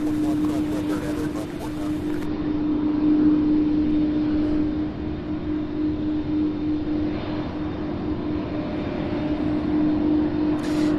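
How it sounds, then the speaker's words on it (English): A UPS cargo plane lands at Louisville airport, its steady broadband jet roar filling the scene with a sustained tonal hum, while a person talks over it. "Nice landing there, as usual."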